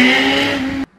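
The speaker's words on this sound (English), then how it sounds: "It makes a very nice airbox roar and it has a very nice characterful exhaust note." A 2017 Suzuki GSX-R1000 motorcycle holds a steady high-revving engine note with strong airbox roar and exhaust tone, loud and close, then cuts off abruptly near the end.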